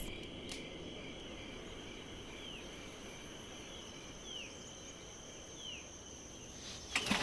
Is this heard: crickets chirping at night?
yes